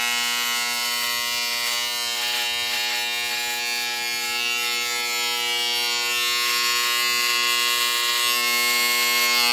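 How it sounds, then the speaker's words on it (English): An electric razor trims facial hair with a loud, close, continuous buzz that holds steady throughout, slightly shifting in tone as it moves, with no talk. "I like to trim it with this razor"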